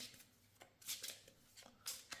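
Quiet, close tarot cards being shuffled in several short riffling bursts with brief pauses between them.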